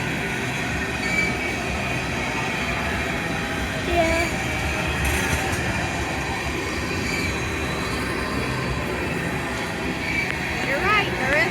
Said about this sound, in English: We never saw a tanker train like this before.